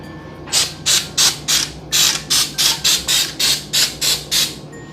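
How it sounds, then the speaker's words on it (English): Cooking spray hisses onto the outside of a muffin tray in about a dozen short, evenly spaced bursts, close and fairly loud, with no talking. "I'm just gonna spray the outside of the tray like this."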